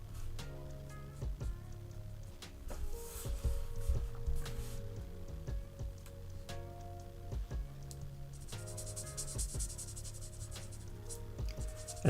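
Markers coloring in a paper fox's tail, close, soft scratchy strokes rubbing over paper in quick repeated bursts, quiet and steady with short pauses between passes.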